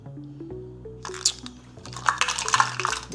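A half-cup measuring cup is rinsed under water, with splashy, squishing bursts of running and dripping water that start after a quiet second and continue in uneven spurts over a low background tone.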